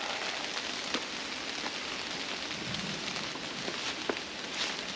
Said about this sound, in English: get back to the truck before this rain gets any harder